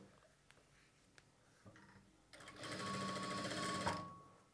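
A sewing machine stitches piping onto cloth pulled taut, its fast whirring run starting after a quiet stretch with faint handling noises, then growing steady and loud for about a second and a half before stopping.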